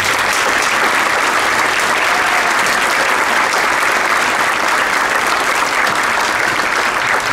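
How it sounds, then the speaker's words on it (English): Dense, steady applause from a concert audience fills the hall for the choir's accompanist at a school Christmas concert, loud and sustained throughout with no talking over it. "Give her a big round of applause"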